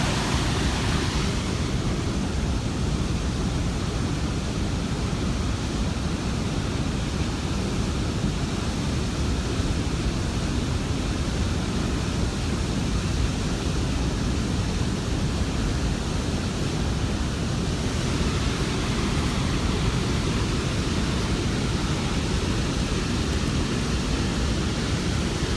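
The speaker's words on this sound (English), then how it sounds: "That's the waterfall he's talking about." A waterfall roars as an even, broadband rush of falling water, loud and unbroken for the full length with no voices.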